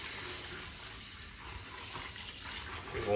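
Tap water runs steadily into a cooking pot while rinsing rice in a home kitchen, a continuous close rushing splash that holds even for about three seconds and swells slightly at the end.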